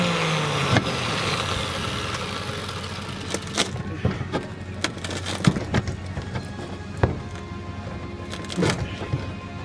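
An angle grinder powered through an inverter, with work going on inside a Ford Econoline van, whirs steadily under scattered clanks and sharp knocks, fairly close, with no clear talk.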